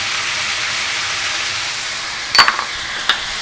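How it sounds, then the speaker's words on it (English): Spices (paprika and cumin) stirred into a hot frying pan while preparing Peruvian-style fried fish, a steady sizzle throughout with a few short scraping stir strokes near the end. "And give it a couple of stirs."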